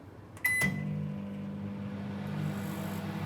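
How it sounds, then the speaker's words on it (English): A Panasonic microwave oven starts with a short beep and a click, then settles into a steady low hum of the running oven, close and moderately loud. "You can add more time or a quick 30 seconds and then press start."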